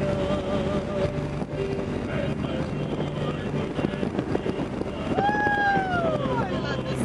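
Wind rushes steadily past open car windows while driving, a broad continuous roar that swells slightly near the end, with someone talking over it.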